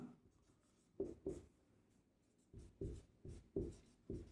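Chalk or marker strokes on a board while working a maths problem, a series of short, fairly close scratching strokes in small bursts separated by quiet pauses, with no speech.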